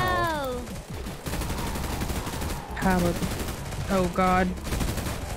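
Rapid gunfire in a zombie video game, bursts of shots crackling over a dense game soundtrack, with players talking and exclaiming throughout.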